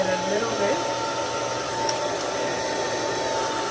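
A hair dryer blows steadily on wig lace adhesive during an HD lace wig install, a loud, continuous close-up whoosh that holds even for the whole stretch.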